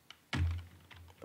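A few soft keystrokes on a computer keyboard, one firmer thunk among lighter taps, brief and close in a quiet room.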